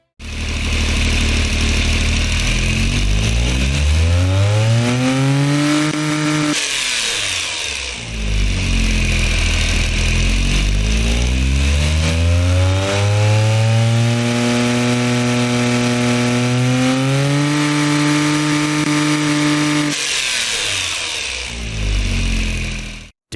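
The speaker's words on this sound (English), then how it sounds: "let's give it here what this little 3-cylinder engine sounds like right now" A small 3-cylinder engine with a 1-inch exhaust and single muffler in the Automation car tycoon game revs up loudly, drops back, then climbs again in long rising sweeps between short idle pauses.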